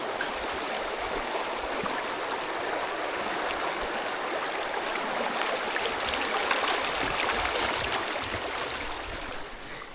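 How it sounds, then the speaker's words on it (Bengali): A river rushing steadily in the dark at a riverside stay in the Dooars, Odlabari area of North Bengal, a broad unbroken wash of flowing water heard alone with no voices. "নদীর আওয়াজ কিন্তু এখনো শোনা যাচ্ছে।"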